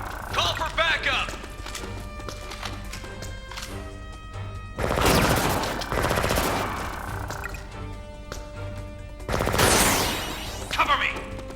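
Gunfire in the Wii video game Disaster: Day of Crisis, two loud bursts of rapid shots and crashes separated by quieter stretches, with voices shouting over the action.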